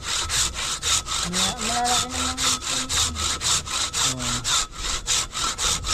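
A hand saw (lagari) cutting wood in quick, regular rasping strokes, close and loud, with someone briefly speaking over it.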